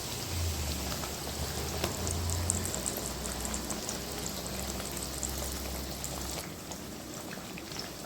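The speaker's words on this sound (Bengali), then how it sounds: "এবার আমি আলুগুলোকে সব দিয়ে দেব।" Sliced potatoes frying in hot oil over low heat for homemade chips, a steady dense crackling sizzle like rain that runs evenly throughout, fairly faint and without talk.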